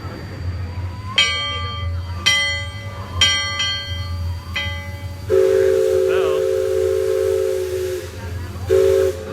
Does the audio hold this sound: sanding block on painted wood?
no